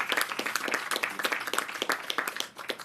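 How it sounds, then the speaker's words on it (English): An outdoor crowd gathered for a groundbreaking on affordable senior housing breaks into brisk, sharp clapping, close and lively, tapering off near the end of a few seconds. "you can clap for that."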